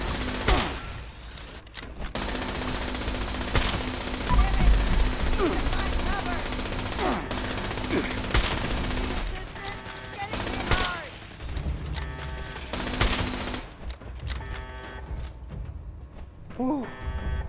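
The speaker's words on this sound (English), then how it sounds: "Taking heavy fire here!" Heavy gunfire in Fallout 76 during a Brotherhood of Steel battle, with rapid overlapping bursts and sharp shots hammering on and off through a busy firefight, and voices calling out now and then.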